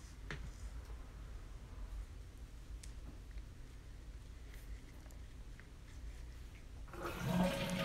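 In the bathroom of a renovated mobile home, a quiet room sits still until a toilet flush bursts in near the end, a close, loud rush of water.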